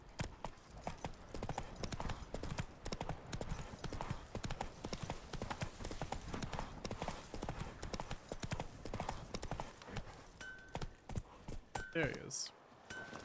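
Geralt's horse Roach from The Witcher 3 gallops in a steady, continuous stream of hoofbeats with tack jingling, lasting most of the stretch before a brief break near the end.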